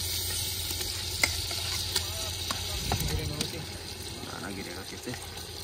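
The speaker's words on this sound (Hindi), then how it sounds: "अब डलेगा चिकन" Marinated chicken dropped into browned masala frying in a pan outdoors by a riverside, giving a hissing sizzle with scraping stirs and sharp clinks of the utensil against the pan.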